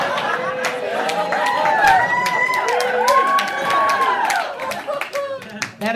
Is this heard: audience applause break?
yes